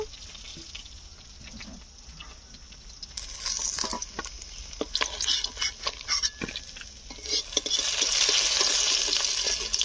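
Fried rohu fish being lifted out of a pan of hot oil: a quieter sizzle at first, then scraping and stirring clatter with sharp taps and a louder, swelling sizzle toward the end, close up with no talking.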